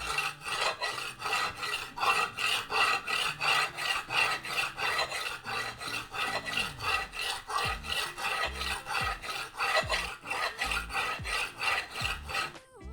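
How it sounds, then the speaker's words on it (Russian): A knife is stroked repeatedly across a wet budget sharpening stone. Close, rhythmic rasping strokes come about twice a second, steady throughout, with no voices. "прикладываем нож и начинаем точить"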